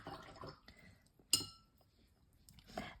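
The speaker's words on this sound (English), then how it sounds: "wash your brush" A watercolor brush swishes and taps against a glass of water, soft sloshing and a bright clink of the brush on the rim, with a voice talking in between.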